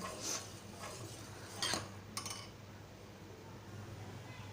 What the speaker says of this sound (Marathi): आता अर्धा लिटरचं दूध ते पाव लिटर होईपर्यंत आपल्याला असं चमच्याने सतत घोटवत राहायचं आहे